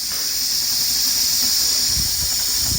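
A car engine, running on a 50/50 diesel and vegetable oil mix, boils over its coolant, giving a loud, continuous steam hiss close by with a low thump near the end.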